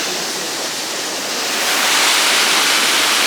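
Steady, loud rush of water pouring through open sluice flaps into a canal lock in Dublin, a broad roaring wash that swells slightly louder partway through, with no voices.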